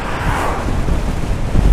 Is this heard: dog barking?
no